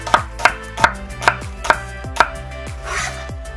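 A knife chops vegetables for budae jjigae on a cutting board in six sharp, evenly spaced knocks, close and alone, followed by a softer rustle.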